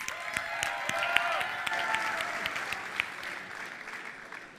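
A crowd applauds steadily and loudly for several seconds at a StarCraft tournament match, with scattered cheers and whistles on top, slowly tapering toward the end.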